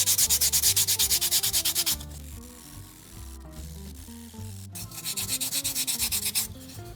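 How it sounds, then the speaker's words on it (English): Hand sanding a foam-and-plastic prop SMG part with 60 grit sandpaper, shaping it toward a rounded form; steady rapid back-and-forth rasping strokes, loud and close, pausing briefly mid-clip before resuming, with no talk. "I'm just going to use some sandpaper and slowly work my way towards that rounded form"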